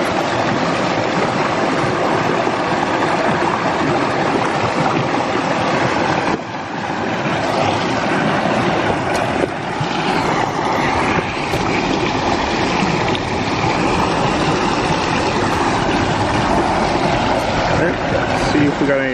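WaterLily turbine spinning in flowing water, a loud, steady churning roar with a continuous rushing texture that holds unbroken for the whole stretch.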